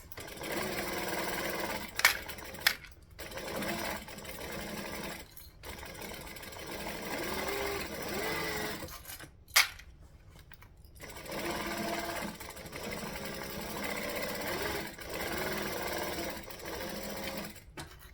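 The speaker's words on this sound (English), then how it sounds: "Alright, stitch over that, back stitch." Sewing machine stitching and back-stitching a seam in fabric being altered, bursts of fast even whirring broken by short pauses, close and fairly quiet.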